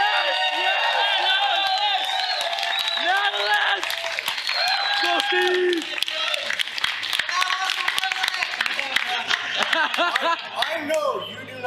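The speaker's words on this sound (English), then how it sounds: "give an enormous round of applause and cheer at the top of your lungs" At the up^^beat 2023 event, an audience keeps up dense applause mixed with whoops, shouted cheers and scattered voices throughout.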